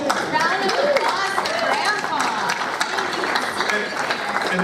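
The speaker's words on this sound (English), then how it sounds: "Round of applause" An audience claps and cheers for the grandpa at a zombie family panel at the 2013 Comikaze convention. The dense, steady applause fills the whole stretch, with voices and chatter mixed into the crowd noise.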